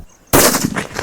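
A paper firecracker bursts at Diwali: one sudden sharp, loud crack after brief quiet, followed by crackling and scattering debris that fades over about a second. No voices.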